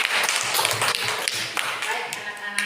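Schoolchildren in a classroom applaud a student group with dense, continuous clapping that fills the whole stretch, with sharp individual claps standing out and faint voices mixed beneath.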